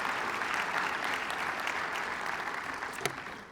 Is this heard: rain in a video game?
no